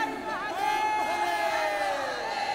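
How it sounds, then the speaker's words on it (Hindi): A noisy, dense crowd of people presses together, many voices shouting and calling over one another in a loud, continuous wall of chatter with rising and falling cries. "बहुत भीड़ है, एक दूसरे से छूट ना जाए।"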